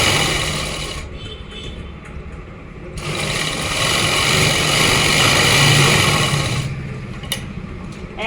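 A sewing machine runs steadily while stitching a seam down the center of Afghani-style pants, with a brief pause and restart partway through, the motor's whirring hum continuous and close.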